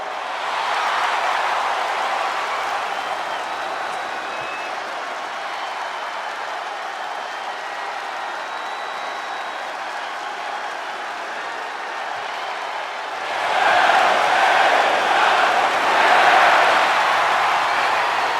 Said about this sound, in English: the roar of the crowd tells you all you need to know